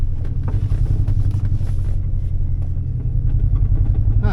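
A 2003 Mini Cooper engine hums steadily while driving, a loud, continuous low drone from close inside the car with slight variations in tone and no talking.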